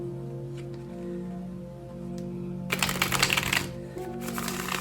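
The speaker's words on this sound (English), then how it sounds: "We'll get started by shuffling." Tarot cards being shuffled close by, a soft riffle building into a brisk flurry of flicking, over a faint background hum.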